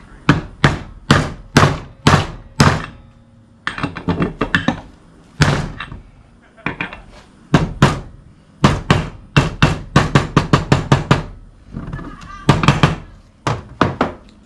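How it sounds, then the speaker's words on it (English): A transmission seal on a 2017 Dodge Caravan 62TE transmission is driven into place with an oversized socket: repeated sharp metallic taps, close and loud, arriving in quick bursts with short pauses between groups. "Just get yourself an oversized socket and gently tap this thing into place."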